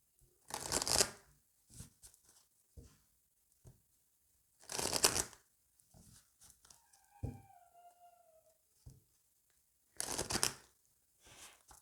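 Oracle cards are shuffled in three distinct bursts of riffling, close and crisp, separated by quiet gaps with faint handling taps; a brief tonal chirp sounds in the middle, and there is no speech.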